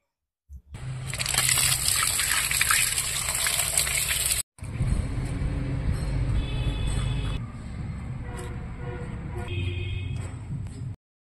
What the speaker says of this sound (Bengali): পিস পিস করে শঙ্কর মাছগুলো পিস করে নিয়েছি। এখন আমি ভালো করে ধুয়ে নেব।